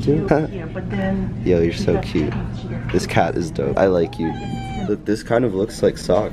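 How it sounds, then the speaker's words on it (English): A cat meows several times, one long drawn-out cry among shorter ones, while a person talks close by. "I love the cats in here."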